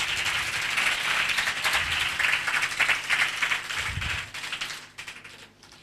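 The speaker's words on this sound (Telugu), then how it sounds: "ఉన్న వాళ్ళందరూ చప్పట్లు కొట్టండి" A church congregation claps their hands at a pastor's prompt, a dense, sustained burst of many overlapping claps that thins out and fades toward the end.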